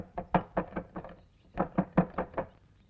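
Knocking on a door comes in two quick bursts of about five or six raps each, firm and close, separated by a short pause, with no voices.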